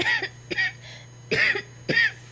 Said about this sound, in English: You up there coughing?